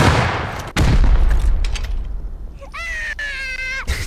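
Loud gunshots and bursts of fire in a modded Rust boat-battle game, mixed with sharp impacts and a loud shouting or screaming voice near the end.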